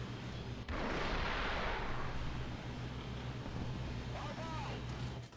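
A T-80 BVM tank in War Thunder launches an anti-tank guided missile while on the move, a sudden loud whooshing blast over a constant deep engine rumble, with someone talking over it.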